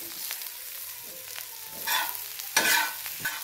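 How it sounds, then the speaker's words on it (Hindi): Green chillies frying in a pan, with a soft sizzle under several scraping stirs that come louder toward the end, heard close and without any talking. "और हमने इन मिर्चों को भी हल्का हल्का सा ऐसे इतना भूनना है"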